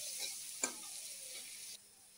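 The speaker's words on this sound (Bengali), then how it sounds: "পেঁয়াজটা যতক্ষণে ভাজা হচ্ছে" Onion frying in oil with green chilli, chopped garlic, salt and turmeric, a soft quiet sizzle with one sharp stir or tap of a utensil partway through.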